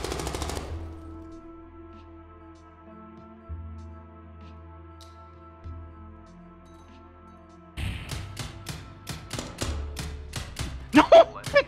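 Gunfire in the Zero Hour tactical shooter game, a burst at the start, then a quiet hum with a few thumps, then rapid automatic shots rattling in the closing seconds, close and loud.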